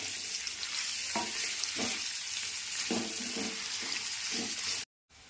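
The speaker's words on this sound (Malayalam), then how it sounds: "പച്ചമുളക് ഇടാം എന്നിട്ട് നന്നായി ഇളക്കണം" Green chillies and onions fry in a pan with a steady close sizzle, punctuated by regular scraping strokes of a spoon stirring them, before the sound cuts out abruptly near the end.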